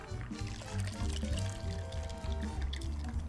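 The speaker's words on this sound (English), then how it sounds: "And then we're gonna pour the drink right on top." A Sidecar cocktail is poured from a shaker into a sugar-rimmed glass, a soft continuous trickle and splash of liquid heard close and quiet, without talk.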